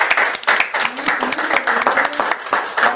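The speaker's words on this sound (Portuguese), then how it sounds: "Podemos dar uma salva de palmas?" An audience at a university event in Jönköping, Sweden claps together in sustained, dense applause, loud and close for the whole moment, with no speech over it.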